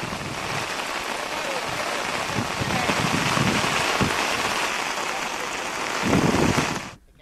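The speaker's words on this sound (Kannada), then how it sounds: "ಹಾಸನ ಜಿಲ್ಲೆಯ ಮಲೆನಾಡು ಭಾಗದಲ್ಲಿ ಮಳೆ ಮುಂದುವರಿತಾ ಇದೆ." Heavy monsoon rain falls in the Malnad hills of Hassan district, a loud, continuous roaring hiss of downpour that swells briefly near the end before cutting off, with no talk.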